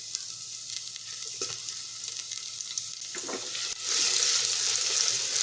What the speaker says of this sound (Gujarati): તો હવે આપણે તેની અંદર નાની અડધી ચમચી જીરું ઉમેરીશું, સાથે જ 1 ચમચી લસણની પેસ્ટ ઉમેરીશું।